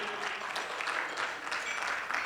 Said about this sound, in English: Please give a round of applause to all the board members and Mr.